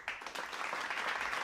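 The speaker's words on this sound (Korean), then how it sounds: "기립박수와 함성이 토론 회장을 가득 채웠어요" Brief burst of applause with cheering in a storybook reading, a dense crackle of clapping that swells quickly and holds at a moderate level for a moment.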